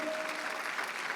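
A congregation at a Sunday church service claps together, a steady, full burst of applause filling the sanctuary for about a second with no voices over it.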